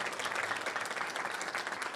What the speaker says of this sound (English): I want you to give a round of applause for the committee